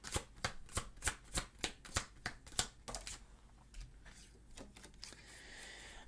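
Tarot cards being shuffled by hand in a fast run of crisp riffling bursts, close and distinct, tapering into softer rustling and handling noise, with no talking.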